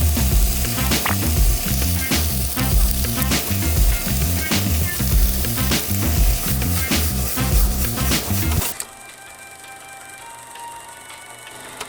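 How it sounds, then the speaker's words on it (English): Mirepoix hitting hot olive oil in a pot gives a loud, steady sizzle and crackle for about nine seconds, then cuts off sharply into quiet kitchen background. "I'm gonna add my mirepoix in the hot oil."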